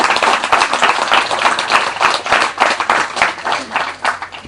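A church congregation claps and applauds during a sermon, a loud, close burst of many hands with a pulsing, almost rhythmic beat that carries on without pause.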